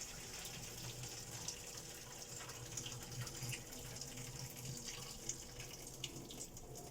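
Hot water from a pot of boiled potatoes pours out as it drains in a kitchen, a faint, continuous splashing trickle with small irregular spatters, no voices over it.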